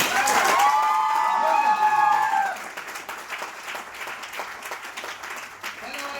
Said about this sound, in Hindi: हमारे सिलोगिया ब्रदर्स के लिए जोरदार तालियां होनी चाहिए